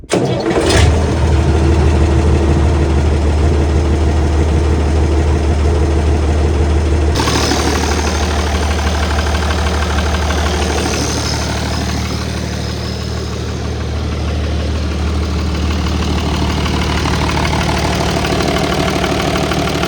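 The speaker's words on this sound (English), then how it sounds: "Anybody else get a little bit nervous when you go to start the tractor for the first time after you change the oil?" An International Harvester 66 series tractor engine cranks and starts after an oil change, then settles into a loud, steady close idle, with the tone shifting midway.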